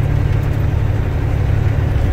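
A Detroit-built car engine idles just after starting, a loud, close, steady low rumble with a regular pulsing beat and no voices over it.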